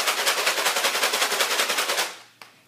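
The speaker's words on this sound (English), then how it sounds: "If you have beans or something that's more heavy, it's going to make a louder sound." Maraca-style shaker filled with heavy beans, shaken in a fast steady rhythm of loud, close rattling pulses for about two seconds, then stopping with one small tap.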